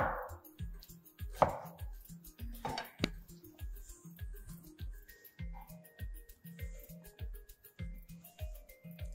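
A knife cuts ginger into julienne strips on a board, a steady run of close, crisp chopping taps in quick rhythmic clusters, with a few clinks of utensils, no talk.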